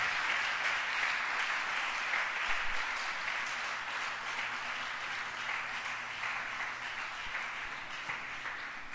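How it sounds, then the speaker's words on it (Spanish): A church congregation claps in steady, even applause that holds at a moderate level throughout, a broad wash of hand claps without talk. "Den un aplauso a la guianza del Espíritu Santo de Dios"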